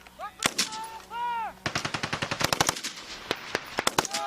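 Rapid bursts of military gunfire crack out during a training exercise at Schofield Barracks, Hawaii, firing in quick close strings after brief shouted voices.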